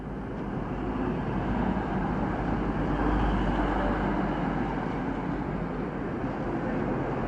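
A double Class 185 diesel train rumbles through Rochdale station, a broad continuous roar with deep low drone that swells slightly mid-pass and stays loud and steady.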